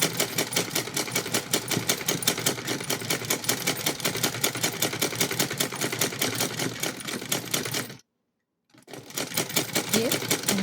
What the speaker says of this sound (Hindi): इस तरह से हमें इस पर सिलाई लगा देनी है